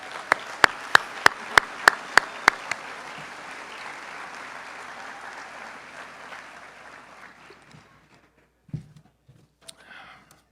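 Audience applause for chamber staff standing at an annual dinner, opening with a few sharp near claps over a broad wash of clapping that fades away over several seconds into near silence with a couple of faint knocks.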